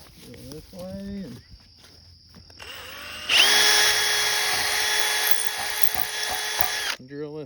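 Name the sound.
power drill drilling for electric fence gate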